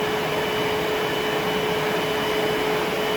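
Bissell SpotBot Pet HandsFree portable deep stain cleaner running its drying cycle, a steady, loud, even whir with a constant tonal whine, close by and alone with no pause for the full stretch.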